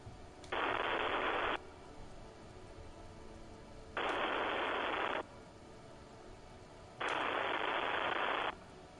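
Telephone call connecting in the game Disco Elysium: three long, evenly spaced buzzing ring tones, each about a second long, over a faint background hiss.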